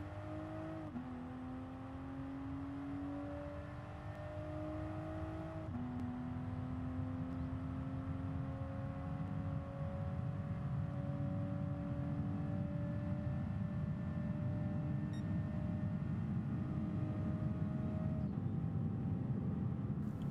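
Toyota GR Supra race car in Gran Turismo Sport on the Mount Panorama circuit, its engine droning steadily with rising pitch sweeps as it accelerates through gear changes, loud and continuous with no voices.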